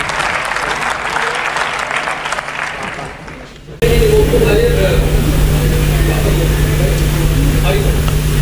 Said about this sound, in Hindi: तालियों से इस्तकबाल करें।